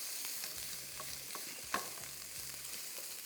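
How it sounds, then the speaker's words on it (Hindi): Garlic and ginger fry on high heat in a pan with a soft, steady sizzle, intermittent scraping and stirring knocks, and one sharper clink midway. "लहसुन, थोड़ा सा अदरक और इन दोनों को करना है फ्राई"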